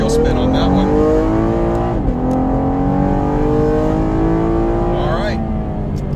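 A Camaro RS V6 launches hard on a street 0-60 run, its engine revving loud and climbing through gears with a shift dip, tires spinning, a continuous close roar with a voice talking over it.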